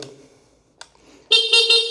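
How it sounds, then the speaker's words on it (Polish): A short, thin motorcycle horn on an MZ ETZ 125 blares loudly after a few quiet clicks and faint sounds, held for under a second with a slightly wavering tone. "klakson śmiesznie trąbi, ale trąbi"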